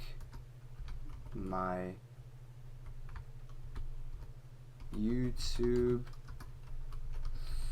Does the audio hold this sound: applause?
no